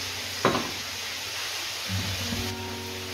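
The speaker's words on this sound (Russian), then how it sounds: "Продолжаем жарить мясо, друзья." Lamb meat fries in a hot kazan with a steady, faint hiss, broken by a sharp clank of a utensil early on and a few soft scraping touches later.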